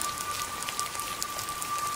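Rain falling on surfaces outdoors, a soft, even patter of scattered drops with a faint steady tone beneath.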